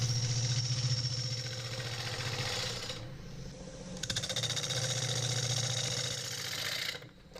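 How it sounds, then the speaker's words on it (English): A wood lathe spins a punky maple bowl while a 5/8 bowl gouge cuts the rim, giving a loud continuous rumbling chatter with a brief lull midway before the cutting resumes. "I'm using my robust Turner's Edge 5/8 bowl gouge with the removable handle."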